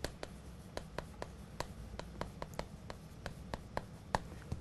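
A teacher writes on a board during a high school Korean democracy and politics lesson. Brisk chalk-like taps and strokes come in a fairly regular rhythm, close and clear over a faint room hum.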